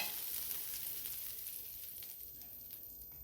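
Homemade butter sizzles on a hot tawa over a gas flame, a close, even hiss and crackle that fades slightly toward the end.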